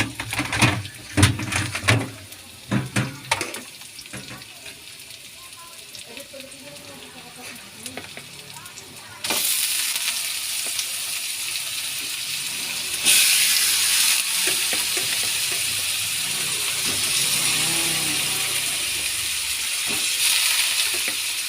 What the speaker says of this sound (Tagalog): Isunod natin ang giniling